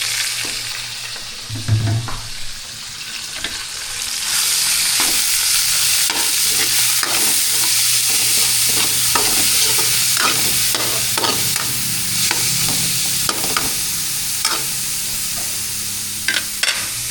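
Ground pork fries in a pan for ginisang upo with a loud, continuous hiss that swells after a few seconds, punctuated by repeated clacks of a utensil stirring and scraping the meat.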